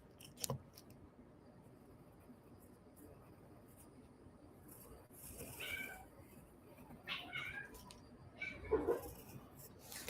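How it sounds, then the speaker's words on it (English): A pet cat meows several times indoors during a quiet hand-lettering session, brief faint cries that grow a little louder and more insistent toward the end, over soft room noise and faint pen scratching. "Cat is going nuts."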